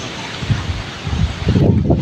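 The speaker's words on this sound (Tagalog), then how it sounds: "Yun, laki ng hangin." Strong typhoon wind buffeting outdoors near a vegetable garden: a loud, continuous broadband roar with rustling gusts that swell toward the end, and no voices.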